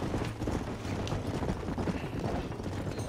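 Video game horse galloping, rapid rhythmic hoofbeats pounding steadily and fairly loud, with no pauses, over a dense continuous background.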